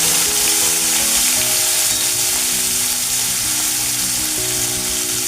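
Tomato pieces hiss and sizzle steadily in hot oil tempered with white cumin seeds and bay leaf, for tilapia curry; a loud, continuous close frying sound with no voices.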